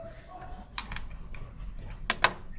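Someone types a URL on a computer keyboard: a few scattered key clicks, then a quick pair of sharper taps near the end, all over faint background noise.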